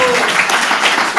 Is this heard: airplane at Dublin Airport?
no